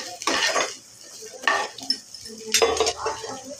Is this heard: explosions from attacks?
no